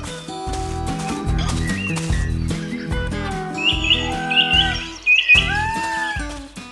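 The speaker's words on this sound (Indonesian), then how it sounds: "Sekelilingnya penuh dengan burung pikok yang warna-warni dan lucu sekali." Small colorful cartoon birds chirp in an animated farm scene with tweets and trills scattered through the passage. They play over bouncy, plucked music with a strong rhythm.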